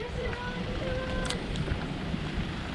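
Steady wind rushes across the microphone at a lakeside campsite among trees in Pililia, Rizal, a constant close roar that carries faint tonal whistles and some brief knocks.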